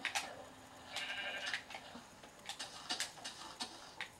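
Several short sheep bleats from Minecraft sound at a moderate distance, scattered over a few seconds alongside faint ticking clicks, with no talking.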